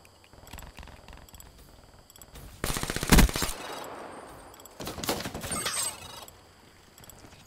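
Rapid automatic gunfire from an SMG in the shooter Black Ops 3, a dense burst in the middle with a loud peak, then a second volley a little later amid game background noise.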